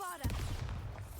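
A Bombarda spell blast in Hogwarts Legacy, a sudden booming explosion with a low rumbling tail after a brief rising tone, heavy and close, over continuous game background sound.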